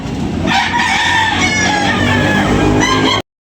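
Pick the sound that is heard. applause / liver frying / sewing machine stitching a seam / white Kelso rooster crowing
white Kelso rooster crowing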